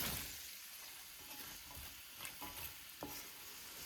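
Cinnamon, cloves and onion fry in a little oil at the start of a tinda masala curry, a soft, even sizzle with faint stirring scrapes, quiet and close, with no voices.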